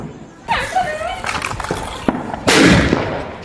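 Diwali firecrackers bursting nearby, with sharp pops and a louder bang near the end, while children talk and shout over them.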